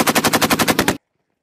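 U.S. Marines fire an M240B machine gun during artillery relocation training in the North Fuji maneuver area at Camp Fuji: a loud, close, rapid burst of about ten shots in one second, then abrupt silence.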